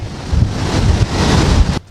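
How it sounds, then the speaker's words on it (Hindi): Sea waves surge toward the coast of Japan ahead of a tsunami, a loud continuous roar of surf heavily buffeted by wind on the microphone, cutting off abruptly at the end. "समंदर की लहरें आगे आ रही हैं, बता रही हैं कि सुनामी आने वाली है।"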